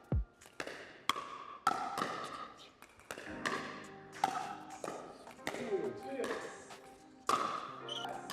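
Pickleball paddles crack against the ball in a quick back-and-forth volley drill on an outdoor court, with sharp, close hits arriving every half second or so and people talking now and then between shots.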